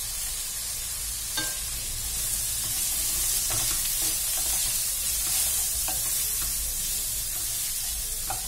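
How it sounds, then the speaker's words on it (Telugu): Raw papaya and fresh coconut curry stirred in a pan on the stove, a continuous soft sizzle with scattered spatula scrapes and knocks, close and steady, no voices. "ఒకసారి కలుపుకుందాం."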